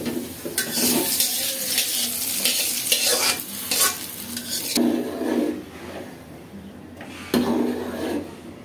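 Dried red chillies and spices crackle in hot oil for dal tempering, a close sizzling hiss that swells in repeated bursts as the pan is stirred.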